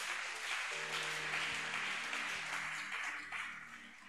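Congregation applauding in a church, a steady wash of clapping running evenly for a few seconds with faint tonal music underneath and no speech.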